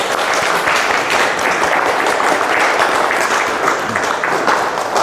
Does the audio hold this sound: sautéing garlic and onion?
no